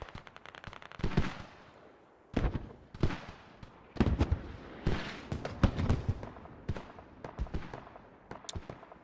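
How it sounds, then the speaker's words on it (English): Mortar rounds explode in the military shooter game Squad, a string of sharp blasts and crackling bursts at irregular intervals, some heavy and some lighter, over a low continuous rumble. "Those mortars are getting closer and closer to that hab."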